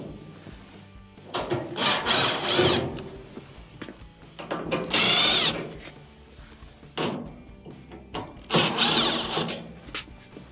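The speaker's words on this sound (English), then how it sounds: "We do have 4 Phillips screws that will have to be removed." Phillips screws are backed out of a clothes dryer panel during a water inlet valve repair, giving three separate bursts of scraping, rubbing and metal-on-wood sounds with brief pauses between them, near and fairly loud.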